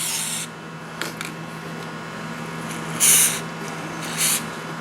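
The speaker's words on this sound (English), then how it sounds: "What I like doing is actually spraying a little bit of red grease." Red grease sprayed onto brake caliper slider pins on an Audi A4 Quattro, short aerosol hisses in separate bursts, two stronger sprays late among quieter handling noises over a low background hum.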